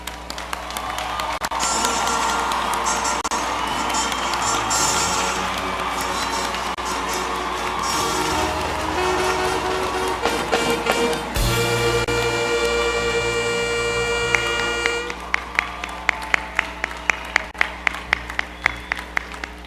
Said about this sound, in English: I ask for all our graduates today a rousing round of applause